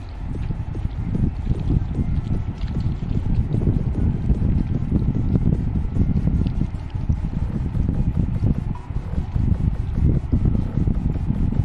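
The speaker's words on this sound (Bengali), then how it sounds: "হাওয়ার তেজ প্রচুর নদীর পানি কিন্তু ছালাক ছালাক করছে" Strong, steady wind roars and buffets the microphone over lapping river water during a fishing trip, loud and continuous throughout with no voices.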